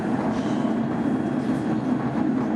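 A mountain railway train runs steadily up toward a summit station near 1,100 metres in Scotland, a continuous low rumble with no talk.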